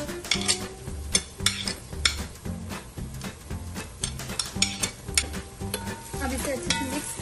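Vegetables for Mumbai-style veg tawa pulao frying in a pan while being stirred: steady close sizzle with repeated scraping strokes and occasional utensil clinks against the metal, no talking.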